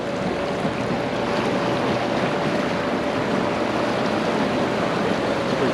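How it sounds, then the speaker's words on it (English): A boat passing on open water, heard as a steady broad wash of water and engine noise with a faint tonal hum, continuous and fairly loud, with no talking. "Oh, boat traffic."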